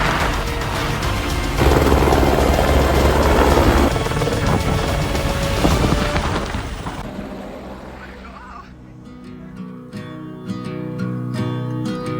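A loud helicopter roar with thumping rotor noise, delivering construction materials to a mountain refuge in the Catalan Pyrenees, fills the first half, then drops away, leaving quieter mixed background sounds.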